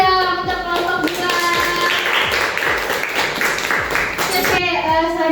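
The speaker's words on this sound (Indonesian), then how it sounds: "tepuk tangan dong untuk kelompok 2" Schoolchildren in a mathematics class clap for a presenting group, brisk irregular handclaps filling the room at close range, with children's voices mixed in.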